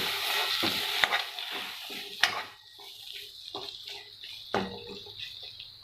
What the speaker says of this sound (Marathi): तेलामध्ये वाटाणे आपण छान परतून घेत आहोत.